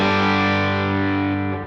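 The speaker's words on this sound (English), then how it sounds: "I'm gonna just put it on my bridge pickup." An electric guitar on its bridge pickup, played clean with no overdrive, rings out a single sustained chord that holds steady for under two seconds before starting to fade.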